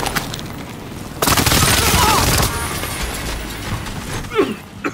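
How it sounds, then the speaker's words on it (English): A video game precision airstrike lands in a loud, dense blast of explosions lasting over a second, followed by fading rumble and a few scattered sharper impacts. "Strike inbound. Enemy precision airstrike."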